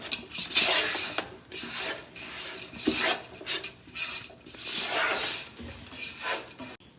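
A spoon rubs and scrapes through a Kerala-style lime pickle mixture of salt and turmeric in a pot, giving uneven, repeated gritty strokes at moderate closeness with no talking.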